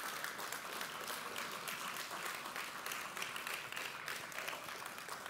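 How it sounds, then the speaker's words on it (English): Audience applauding and cheering at a church gathering in honour of mothers, a steady dense wash of clapping sustained throughout at moderate distance. "Can we applaud the moms?"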